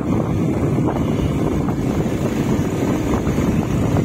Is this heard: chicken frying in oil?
no